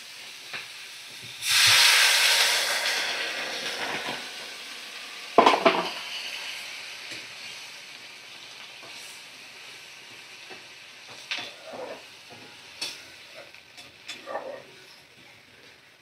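Vegetables sizzle and hiss loudly in a hot pan as water is poured over them, a burst of steamy frying that gradually settles into a softer sizzle with occasional clinks of a utensil against the pan.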